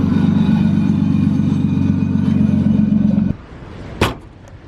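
Nissan Skyline R32 engine idling with a steady, loud low rumble that cuts off abruptly, followed by quieter ambience and a brief sharp knock.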